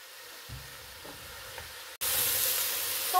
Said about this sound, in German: jetzt gebe ich hier, wie gesagt, noch etwas Olivenöl dazu. Und lasse das noch so 3 Minuten ungefähr hier anbraten auf höchster Stufe.